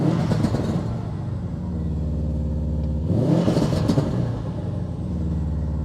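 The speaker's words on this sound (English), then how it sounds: "And this is with pops and bangs." Inside a Subaru WRX fitted with a pops-and-bangs tune, the engine rumbles and revs up steadily, rising again midway with a louder surge and crackling exhaust bursts near the end.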